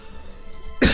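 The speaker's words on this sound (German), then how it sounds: "Boah, ich muss mal husten." A single short cough bursts out near the end of a quiet second, loud and close after faint background hum.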